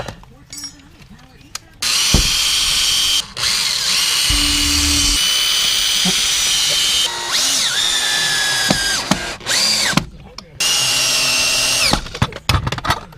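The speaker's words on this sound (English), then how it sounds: "So I'm guessing we want to drill into this" A power drill whirs in several long bursts close by, drilling into a door frame while installing a storm door, its pitch rising and dropping as it bites in, with brief pauses and faint handling noises between runs.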